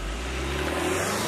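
Turbocharged 2.0-litre engine of a 2018 Honda Accord Sport accelerating, a steady, loud low engine drone with a constant hum throughout, heard from inside the car without talk.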